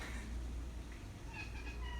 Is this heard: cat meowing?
yes